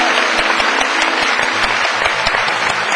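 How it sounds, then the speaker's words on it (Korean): A crowd claps loudly and continuously, a dense wash of applause filling the room for the whole moment. "한번 박수 한번 쳐주세요."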